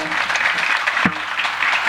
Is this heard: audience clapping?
yes